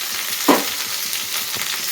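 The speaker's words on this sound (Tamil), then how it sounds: "இப்போ வெங்காயம் வந்து இந்த அளவுக்கு வதங்கினதுக்கப்புறம் நம்ம வந்து தக்காளி கட் பண்ணிவிட்டு அதை போட்டுக்கலாம்." Onions and tomatoes sauté in a pan in a home kitchen, a steady close sizzle with a brief stir or scrape, and no talk over it.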